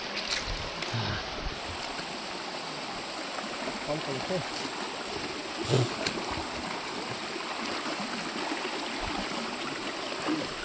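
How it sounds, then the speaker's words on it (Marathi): Wading at night through a flowing river in the Konkan countryside during the monsoon, with a steady rush of running water and occasional close splashes from footsteps, plus a voice speaking briefly. "अशी नदीमधून वाट काढत काढत आम्हाला जावं लागतो"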